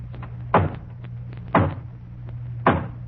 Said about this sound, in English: And then there's the hollow knock on the front door.